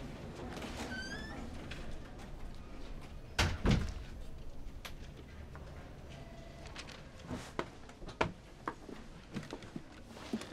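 An indoor door is handled in a TV-newsroom scene, giving a loud thump and slam around the four-second mark followed by scattered lighter knocks and clicks, with no talk over it.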